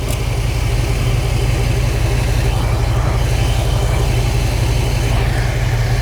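A car engine runs at a steady idle after being started, a continuous low rumble with an even pulsing beat, close and loud, with no talking.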